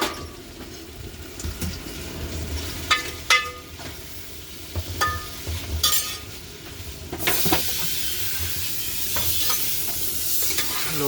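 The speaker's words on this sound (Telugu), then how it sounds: "బెండకాయలు నూనెలో గోలిస్తున్నారు." Okra fries in hot oil with a crackling sizzle and scattered stirring taps, and a louder hissing rush swells up partway through, all close by with no talking.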